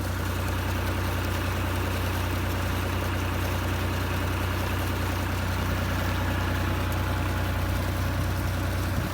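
A tractor engine idles steadily with a deep low rumble and constant vibration, running evenly without strain while powering a cotton irrigation pump, running evenly throughout with no voices.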